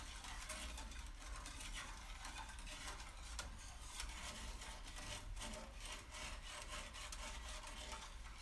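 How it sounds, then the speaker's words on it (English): Continuous close scraping and rubbing as a soda ash soak mixture is stirred, a steady gritty swish with no pauses and no voices. "this time I'm gonna sort of stir as I go"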